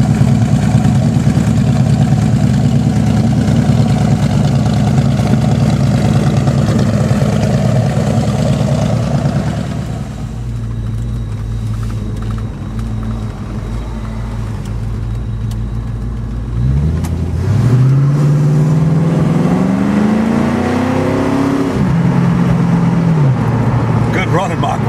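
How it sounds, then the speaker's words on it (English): A 1969 Ford Mustang Mach 1 with a 351 four-barrel V8 idles with a deep steady rumble, settles lower, then is revved in a rising swell that peaks and drops back to idle, with someone talking over parts of it. "That is the sweet purr of Ford's 1969"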